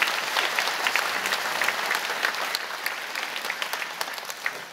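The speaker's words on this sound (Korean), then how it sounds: "여러분 크게 박수로 환영하시지요" A church congregation applauds to welcome a newly arrived pastor during Sunday worship. The crowd clapping is full and continuous and eases slightly toward the end, with no voices on top.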